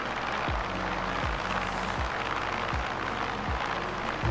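Loud, steady radial piston drone of an F6F-5 Hellcat engine in Microsoft Flight Simulator, cruising around 13,000 feet over the Hawaiian islands, with a low rumbling throb that pulses about every three-quarters of a second.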